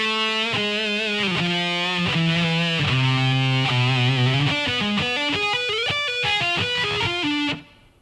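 A heavily distorted electric guitar plays a slow lick, a string of clear sustained notes moving downward then climbing in quick steps, loud and alone, before cutting off at the end.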